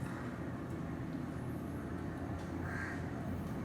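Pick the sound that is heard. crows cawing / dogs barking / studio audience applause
crows cawing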